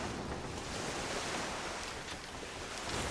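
Steady rushing ocean waves and wind roll on without pause around a sailing ship in the pirate video game Skull and Bones, a continuous broad wash with no speech.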